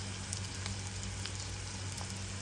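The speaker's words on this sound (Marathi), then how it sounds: "कांदा छान परतला आहे" Onion frying in a pan for a jowar puffs upma, a faint, steady sizzle with a constant low hum, no voices.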